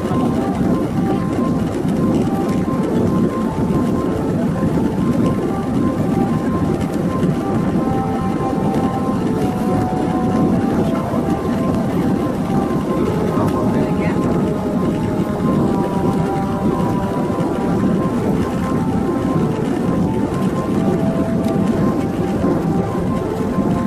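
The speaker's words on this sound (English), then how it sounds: "This plane takes off from Yogyakarta Desicipto Airport and will soon land at Samarinda" Steady, loud droning engine noise inside an Xpressair airplane cabin during landing at Samarinda Airport, a constant rumbling roar with a faint hum, no pauses.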